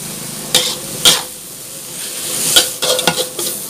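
Eggs and garlic shoots sizzling and being stir-fried in a hot pan, with a few sharp clinks of a utensil against the metal over a steady frying hiss.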